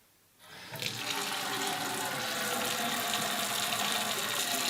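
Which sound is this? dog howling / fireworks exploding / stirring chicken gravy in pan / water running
water running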